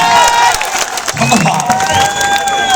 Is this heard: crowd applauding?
yes